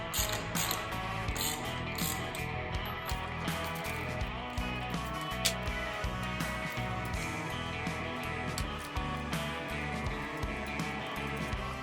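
A socket ratchet working spark plugs out of a Yamaha 9.9-25 hp outboard, a steady, close run of quick metallic clicks and ratcheting over mechanical background noise, with no talk.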